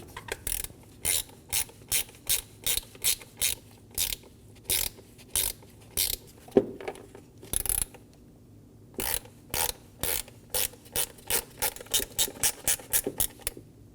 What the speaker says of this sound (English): Install the MAF sensor. Get the 2 screws started. Snug them down.